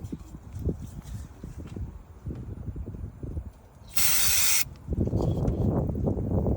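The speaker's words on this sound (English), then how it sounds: "I'm gonna just spray it" One loud, steady hiss of mass airflow sensor cleaner sprayed onto a removed car sensor lasts under a second, set between scraping, handling noises close by.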